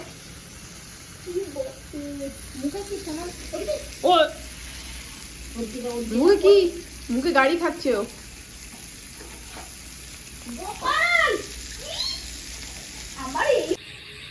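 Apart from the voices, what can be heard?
chicken frying in a pan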